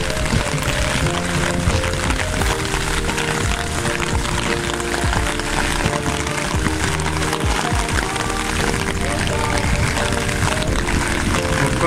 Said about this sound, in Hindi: बारिश की आवाज तो बहुत ज्यादा आपको आ रही होगी।